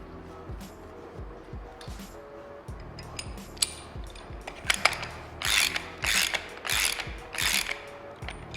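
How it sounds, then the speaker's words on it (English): Rapid ratcheting clicks come in repeated bursts, close and fairly loud, as the top cap is screwed back onto the air-spring side of a bicycle suspension fork during servicing. "go ahead and reinstall that top cap unit"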